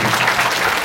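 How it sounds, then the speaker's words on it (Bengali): A school crowd of students bursts into loud, dense clapping at an Independence Day cultural programme, one short sustained burst heard up close. "তোমাদের ছাত্রছাত্রীদের জন্য একটা জোরে হাততালি"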